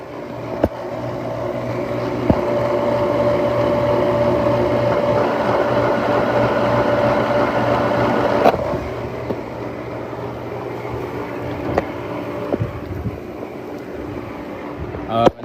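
Pool equipment pump motors and a blower run as part of a whole-home power system, giving a steady loud mechanical hum with a constant tonal whine that drops in level partway through, with faint talk over it.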